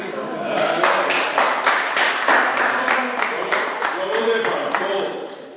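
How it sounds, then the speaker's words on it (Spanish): Applause from a church congregation at a Sunday religious broadcast, a steady patter of many hands clapping close by that carries through the whole stretch at an even level, with murmured voices underneath. "Eso merece un aplauso, ¿verdad que sí?"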